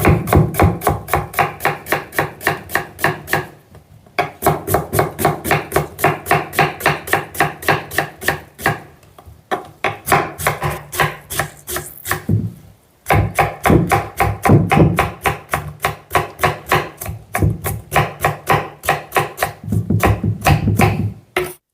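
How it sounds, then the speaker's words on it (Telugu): A knife thinly slices onion on a cutting board, a long run of fast, evenly spaced close chops that pauses briefly a few times and then resumes at the same brisk rhythm, with no talking. "మనం క్యాబేజీని ఎంత సన్నగా కట్ చేసామో ఉల్లిపాయను కూడా అలాగే కట్ చేసుకోవాలి"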